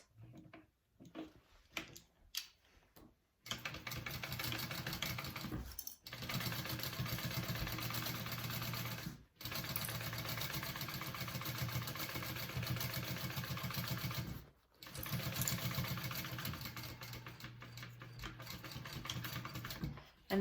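A sewing machine runs a 3/8 inch seam on a handbag in long steady bursts of rapid, even stitching, stopping briefly between runs, after a few scattered clicks of handling at the start.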